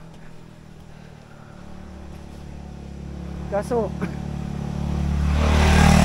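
A motorcycle passing on a road near Hanginan, Southern Leyte, with a rising engine drone that grows louder toward the end, under people talking.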